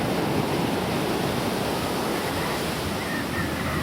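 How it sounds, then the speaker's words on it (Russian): Black Sea surf breaking on the sandy beach at Gagra, a loud continuous rushing wash of waves with wind noise, close and without voices. "какая волна"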